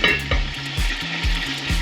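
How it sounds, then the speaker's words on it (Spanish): Beef sizzles in a covered pan over medium heat, a steady crackling fry punctuated by a few soft thuds from the lid or pan, close and with no talking. "mientras se nos está friendo la ternera"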